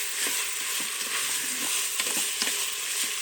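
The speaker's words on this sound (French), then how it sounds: "Pour bien mélanger et que le riz devienne translucide." Rice sizzles steadily as it is stirred and fried in a pan, with a dense, even hiss and repeated scraping strokes from the spoon, close and fairly loud, with no voices.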